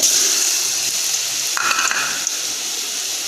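Garlic and ginger paste sizzling in hot oil for chicken jalfrezi, a steady close hiss with brief stirring scrapes partway through, no talking.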